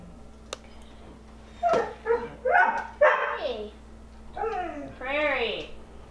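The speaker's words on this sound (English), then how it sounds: "Can you stop barking?" A dog barks and yips several times in a close, uneven series, with whimpering tones between the barks.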